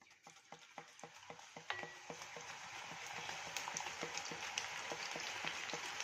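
Raw banana slices for wafers dropped one after another into hot oil, a rapid regular series of small splashes and clicks that gives way to a steady, rising sizzle of frying, faint and close, with no voices.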